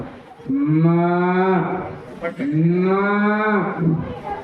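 Two long, deep moos close up, made by a person imitating a cow at a school inter-house cultural competition, each swelling and then dropping.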